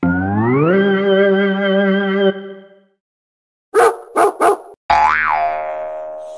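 Cartoonish sounds: a long wobbling boing tone, then three quick yappy barks and a final sliding whimper-like tone.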